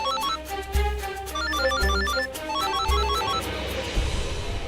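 A telephone rings with an incoming call, a melodic electronic ringtone pattern repeating in short bursts over a low pulsing tone, fairly clear with no speech.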